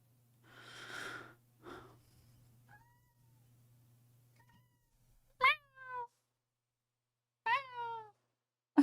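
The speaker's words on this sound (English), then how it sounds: "Mayor Cat, what's wrong? Do you want love" A house cat meows indoors, a few separate close cries with pauses of silence between them, preceded by soft snorting breaths.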